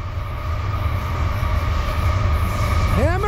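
Norfolk Southern freight train with a BNSF ES44C4 among its locomotives runs hard under full throttle, a steady loud rumble of engines and rolling cars close by, with a rising horn-like tone near the end.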